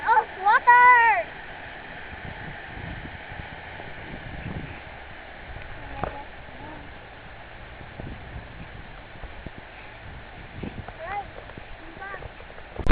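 A Montero Sport 4x2 SUV ploughs through water at Sapang Bato, throwing up a fountain-like spray; the rushing, splashing wash runs steadily throughout, with excited voices calling out over it.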